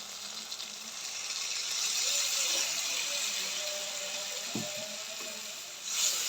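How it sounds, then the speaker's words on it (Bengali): Water hits hot frying prawn malai curry masala in a pan, a steady loud hiss of sizzling that swells and holds, with a few faint clinks of a utensil near the end. "এবার পরিমাণ মতো জল দিয়ে দেবো"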